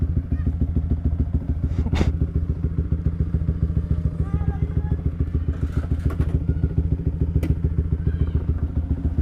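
Motorcycle fitted with a JB159 trioval aftermarket exhaust idles steadily and close, a deep even thrum with a few light clicks and thuds over it, while faint voices talk in the background.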